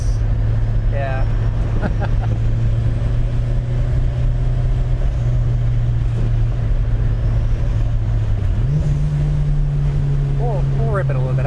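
Steady engine drone from a Mitsubishi Evo VI being driven on the road, holding an even pitch and then stepping up as the revs climb, with people talking inside the car.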